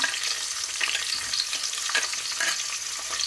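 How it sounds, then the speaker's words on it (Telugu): Sliced onions frying in a pan for khichdi, a bright dense sizzle heard close, with light scraping of stirring running through it, no voices. "ఉల్లిగడ్డ వేసుకుంటున్నాము. చూసారు కదా, అంతా బాగా ఫ్రై అవుతుంది."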